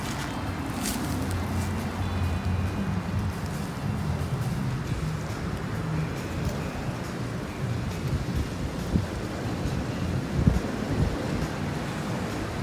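Steady outdoor wind rushing past the microphone in an open field, a constant broadband roar with no talk and a couple of small knocks near the end.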